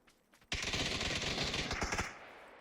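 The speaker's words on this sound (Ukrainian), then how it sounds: "Хто стріляє?" Rapid automatic gunfire in the video game PUBG bursts out loud and close for about a second and a half, a dense string of shots preceded by a few faint distant pops.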